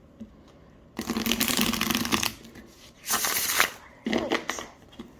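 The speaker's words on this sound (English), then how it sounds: "The cardstock is great for riffle shuffling." A tarot deck is riffle shuffled in three rapid bursts of fluttering card clicks, a long one followed by two shorter ones, close and fairly loud with quiet gaps between.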